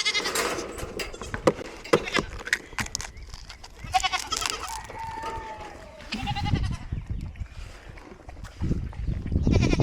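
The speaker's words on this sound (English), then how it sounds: "Can you hear the goats? They act like they're starving." Goats on a small farm bleat repeatedly at midday, loud and close, their cries overlapping with scattered knocks and bumps, while a person talks intermittently nearby.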